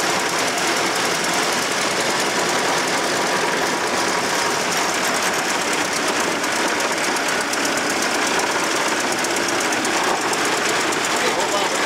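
A 1914 Ford Model T engine labours up a hill in first gear, giving a loud, rapid, continuous mechanical clatter and knocking drone that stays steady throughout, heard up close with people talking over it.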